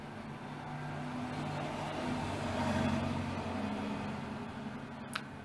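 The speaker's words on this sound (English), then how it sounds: "my window's open and there's loads of traffic" Road traffic drifting in through an open window, a steady low rumble of passing cars that swells and fades gently, fairly faint and distant, with a brief click near the end.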